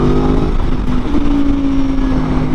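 A 2022 Aprilia Tuono motorcycle engine held at raised revs, a loud steady close-up drone with a sustained tone and slight rise in pitch partway through.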